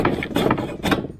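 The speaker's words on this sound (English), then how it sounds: "I'll just hacksaw away the length I don't want." A hacksaw cuts through a clamped wooden dowel during a coffee side-table leg repair, giving a few close, rasping back-and-forth strokes in quick rhythm.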